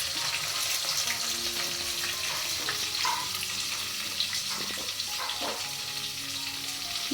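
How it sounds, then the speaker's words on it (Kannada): Onions fry in hot oil for a tempering in a village kitchen, giving a steady, moderate sizzle with some faint stirring and occasional clatter, no voices heard. "ಈರುಳ್ಳಿ ಹಾಕಿದ್ದಾರೆ, ಅದು ಒಗ್ಗರಣೆ ಮಾಡೋದಕ್ಕೆ ಇವ್ರು ಮಾಡ್ತಾ ಇರೋದು"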